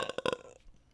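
A single loud, drawn-out burp after drinking soda, with rolling pulses in the first half second that trail off into quiet.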